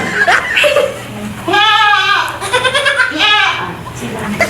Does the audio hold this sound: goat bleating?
yes